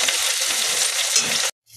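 Onions frying in oil tempered with whole spices, cooked in a Bengali kitchen while making mochar ghonto, give a loud, steady, close sizzle that runs evenly and then cuts off abruptly near the end.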